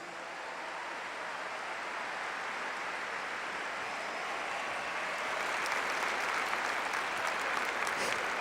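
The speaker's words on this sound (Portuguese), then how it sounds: "Aplauda a palavra de Deus." A church congregation applauds continuously in a broad, even wash of clapping that grows slightly louder and sharper toward the end.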